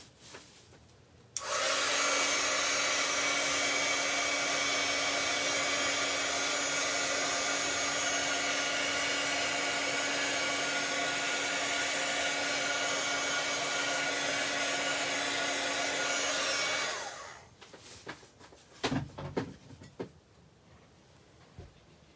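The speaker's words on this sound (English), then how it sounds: "Okay, I'm going to bring in the heat tool." A heat tool blows hot air over alcohol marker ink on vellum. It gives a loud, steady whirring roar that starts abruptly, runs for about fifteen seconds, then cuts off, followed by a few faint handling knocks.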